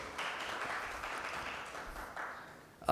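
Audience applause at a book launch for "Hindustan Kyun Taqseem Hua", a steady patter of many hands clapping at moderate volume for about three seconds, ending in a louder burst.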